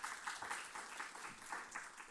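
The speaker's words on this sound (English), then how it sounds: "everyone give a round of applause for Lily." An audience at a speaker series event claps in a brief, moderately faint round of applause with a steady pattering rhythm.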